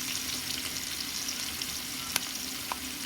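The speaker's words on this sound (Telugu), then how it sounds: "ఉల్లిపాయలు అయితే వేసేసుకుంటున్నాను కొంచెం కొంచెం వేసుకొని బాగా ఎర్రగా వచ్చేంత వరకు వేపుకోవాలండి" Sliced onions fry in hot oil for chicken dum biryani, a steady close sizzle and crackle with a couple of brief clinks from stirring, no talk.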